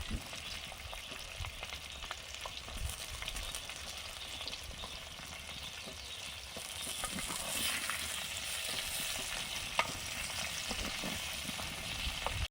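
Sliced ridge gourd frying in a hot pan gives a steady, close sizzle with occasional scrapes and stirring clatters, growing a bit louder partway through. No one speaks.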